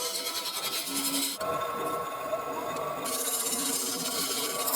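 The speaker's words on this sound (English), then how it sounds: "Just hogging out the middle at the moment with the number 1 hollower from Easy" A carbide hollower with negative rake cutter hogging out the middle of a resin and burl blank spinning on a lathe, giving a continuous close scraping hiss with a steady motor hum underneath.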